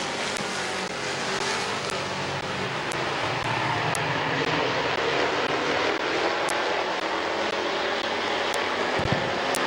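Race cars roaring around the dirt oval at Midvale Speedway, a dense continuous engine drone that stays loud throughout with no talk over it.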